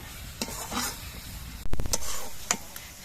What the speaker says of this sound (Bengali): তাই আমি আরও কিছুক্ষণ শাকটা রান্না করব